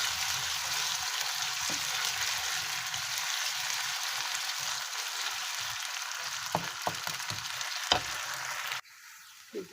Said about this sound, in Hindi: और अब हम इसमें अपने आलू डालेंगे और इनको फ्राई कर लेंगे।